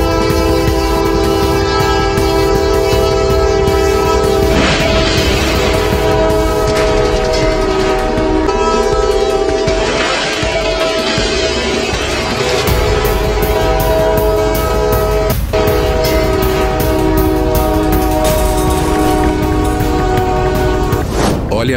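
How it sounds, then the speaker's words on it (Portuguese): A train runs with a horn blaring, ahead of its collision with a truck trailer: loud sustained horn tones over rolling rail noise, with a few brief bursts throughout. "o trem veio colidiu contra a carreta, resultando em uma grande destruição"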